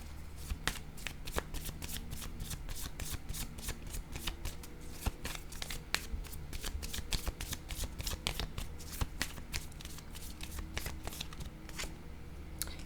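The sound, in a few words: tarot cards being shuffled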